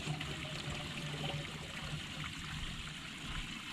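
Water drains and trickles out of a pipe on a converted school bus, a faint, steady gurgling flow with no one talking.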